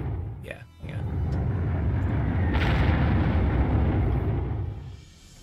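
Artillery fire in the Panzer Corps war game, a sharp crack followed by a long, loud rumbling boom that swells and slowly fades away.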